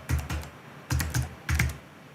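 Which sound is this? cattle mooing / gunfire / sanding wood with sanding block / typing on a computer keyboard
typing on a computer keyboard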